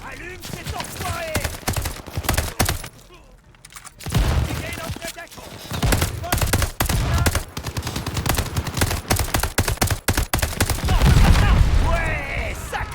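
Tanker truck explosion and gunfire in the World War II shooter Call of Duty Vanguard: dense bursts of rapid automatic fire and heavy booms run almost continuously, with a brief lull, under shouted voices.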